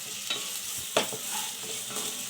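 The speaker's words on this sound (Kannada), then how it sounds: "ಇದನ್ನ ಚೆನ್ನಾಗಿ ಫ್ರೈ ಮಾಡಿ. ಹಸಿಮೆಣಸಿಕಾಯಿ ಈರುಳ್ಳಿ ಎಲ್ಲ ಚೆನ್ನಾಗಿ ಬಾಡಬೇಕು ನೋಡಿ, ಚೆನ್ನಾಗಿ ಫ್ರೈ ಆಗಬೇಕು." Chopped onions and green chilies frying in a pan for quick onion rice, a continuous close sizzle broken by a few sharp spoon scrapes, with no voices.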